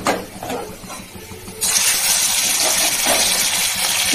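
Hilsa fish dropped into hot oil in a home kitchen, a soft background at first, then a sudden loud, continuous sizzling hiss that carries on steadily once the fish hits the pan.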